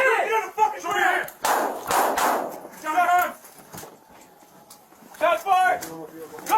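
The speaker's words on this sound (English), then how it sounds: "Shots fired!" Several sharp gunshots crack out in quick succession during a police search-warrant raid, loud and close, tangled with urgent shouted commands from officers before and after the bursts.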